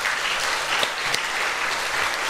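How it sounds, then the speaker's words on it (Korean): A church congregation applauds during a Friday evening sermon service, producing dense, continuous clapping that fills the room at an even level throughout, with no talking over it. "하나님께 영광의 박수 돌리겠습니다"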